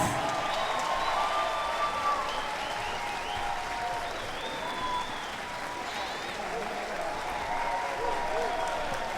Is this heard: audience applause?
yes